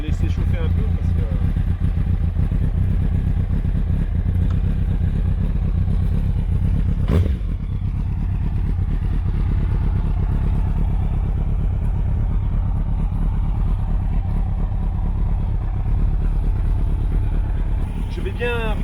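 A motorcycle idles steadily to warm up before being loaded into a camper van's storage hold, a continuous low engine drone running throughout beneath people talking.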